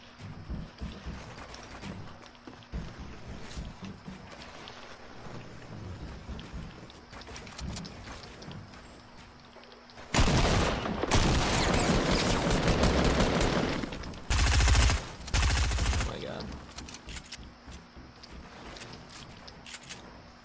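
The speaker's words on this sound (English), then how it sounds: "I guess I'm just gonna shoot you down." Gunfire in a Fortnite-style build battle game comes as scattered quick shots over a busy game backdrop, then a long loud burst of sustained firing and blasts in the middle, followed by a few more heavy shots.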